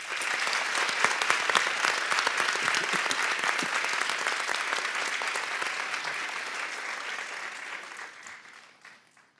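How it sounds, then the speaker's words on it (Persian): Audience applause at a Quran recitation gathering, a dense, steady clapping that fills the clip and tapers slightly toward the end, with no voices over it. "به رسم میهمان نوازی تشویقشون بکن"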